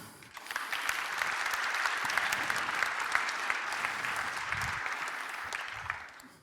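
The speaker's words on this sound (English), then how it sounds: "Give a clap." Conference talk audience gives a sustained round of applause, a dense, even wash of clapping that rises quickly, holds steady for several seconds, then tapers off, heard at moderate distance.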